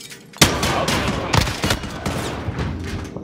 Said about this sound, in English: you guys can see this dude shooting through walls